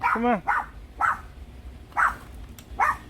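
A pet dog indoors barks about five times in a rough, uneven rhythm, close and fairly loud, the first bark drawn out into a whiny yelp, with quiet room noise between.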